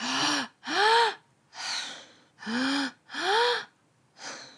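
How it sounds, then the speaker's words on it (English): A person demonstrates belly-to-chest breathing with deep, audible in-and-out breaths, six voiced gasping breaths alternating in a steady rhythm, close to the microphone. "And then you do the belly to chest and breath out."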